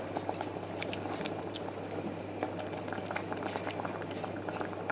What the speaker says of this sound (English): the mince bubbling away